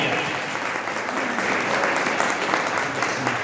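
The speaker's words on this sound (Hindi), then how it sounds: "एक बार जोरदार तालियां" An audience at a business product seminar breaks into loud, continuous applause, a dense wash of many hands clapping together without pause.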